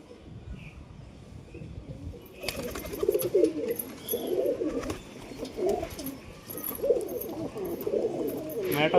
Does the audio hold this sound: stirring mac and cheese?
no